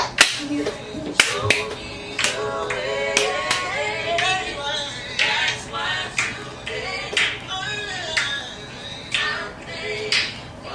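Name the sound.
hand clapping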